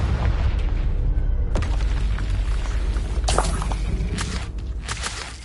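A Confringo fire spell bursts in Hogwarts Legacy, a deep booming explosion that opens loudly and rumbles on, with further crackling impacts and bursts following close by.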